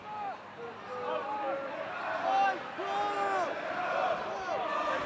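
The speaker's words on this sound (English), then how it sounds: "You can hear the Tommy's crowd getting their chants going." Supporters of Sir Thomas Rich's chant together in the stands at Kingsholm Stadium during a school rugby match against Cheltenham College, a steady mass of overlapping voices rising and falling in sung phrases throughout.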